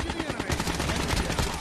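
Sniper rifle fire in a Call of Duty match, a dense burst of sharp gunshot cracks and rapid reports filling the short moment, loud and close with no talk over it.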